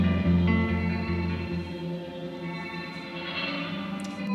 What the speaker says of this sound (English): just the signal completely with reverb. No dry signal is heard.